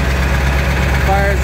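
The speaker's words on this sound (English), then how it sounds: "So, cold start. Like I said, it's only been 2 days, but truck has zero smoke." A 1999 Ford F550 truck with a 7.3L diesel running after a cold start, a loud, steady, close idle with a deep low-pitched rumble and vibration throughout.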